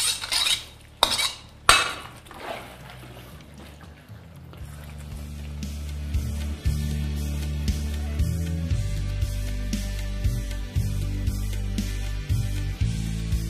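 Chilli chicken being mixed in a pan: a few loud metal clanks of a spoon at first, then continuous stirring and scraping with soft wet sounds over a low hum, up close and without speech.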